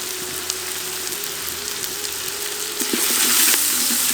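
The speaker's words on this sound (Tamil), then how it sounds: "வெங்காயம் நல்லா வணங்கிருச்சு." Onions sautéing in a pan with turmeric and salt, giving a steady close sizzle with stirring scrapes and clinks that grows a little louder near the end.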